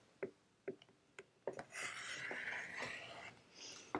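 Rotary cutter slicing quilt fabric diagonally along a ruler: a few soft taps, then a longer close rasping cut that fades out, quiet with no talk.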